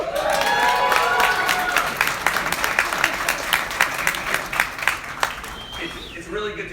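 An audience at a Sony camera press event in New York City breaks into loud, sustained applause with scattered cheers and whoops, the dense clapping gradually thinning out toward the end.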